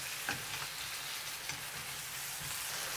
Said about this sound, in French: Je remue pendant 1 minute.